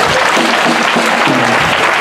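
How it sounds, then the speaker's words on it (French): Loud, dense applause from a church congregation clapping for the Lord, a continuous roar of hands close and strong throughout, with faint voices underneath. "il faut applaudissez fort le Seigneur"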